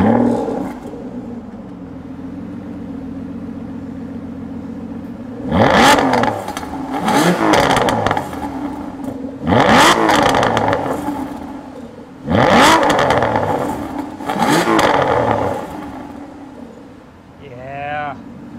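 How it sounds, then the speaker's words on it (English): An Aston Martin Vantage V12 engine idles low, then revs hard in four or five loud, sharp bursts that rise and fall, with people's voices underneath. "It's the sound of that engine."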